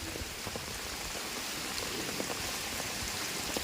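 Steady, dense rain pouring down in a house yard in Kerala, a continuous hiss with scattered drops pattering on surfaces nearby, no voices.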